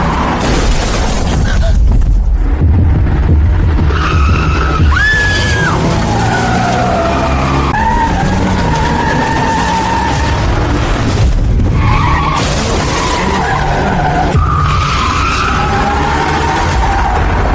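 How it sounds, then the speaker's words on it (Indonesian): A car braking suddenly, tires skidding with loud squeals and booming impacts over a dense, busy mix of engine noise and voices. "suruh kamu injak rem, bukan rem mendadak"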